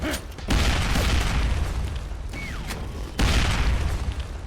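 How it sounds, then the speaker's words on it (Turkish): A bomb is thrown and explodes in the video game S2 Son Silah, with two loud, broad booming bursts over a steady rumble of game noise. "Bomba atıyorum."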